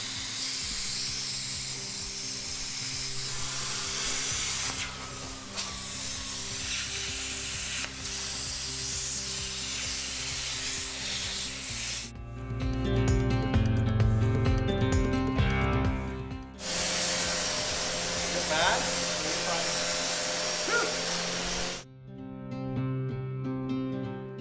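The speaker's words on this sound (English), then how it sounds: "we're gonna be doing a bunch of grinding, and we are hacking all of this out of here." Metal being ground and cut out of an off-road wrecker truck in a workshop, a loud continuous abrasive roar with hissing scrape that rises and falls across several long passes, with brief pauses between them.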